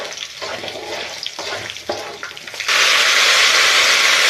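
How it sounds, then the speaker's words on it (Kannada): Coriander seeds, cumin, garlic and chillies fry in a pan with a steady broadband sizzle that swells sharply louder partway through and holds, with no talking. "ಇವಾಗ ಫ್ರೈ ಮಾಡ್ಕೊಂಡ್ಬಿಡೋಣ ಇದನ್ನ ಚೆನ್ನಾಗಿ"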